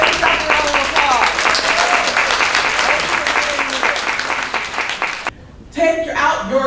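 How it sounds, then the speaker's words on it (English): Loud applause fills a convention hall of Democratic candidates, dense crowd clapping with some cheering that cuts off abruptly, followed by a brief quiet gap and then a voice speaking. "Give yourself a round of applause"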